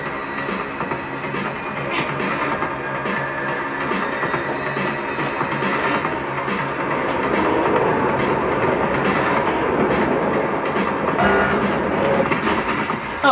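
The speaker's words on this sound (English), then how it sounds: "Oh, good, there was a train behind me." A train in the video game Mirror's Edge rumbles past steadily with rhythmic clickety-clack of wheels on rails, growing slightly louder toward the end, with no talking.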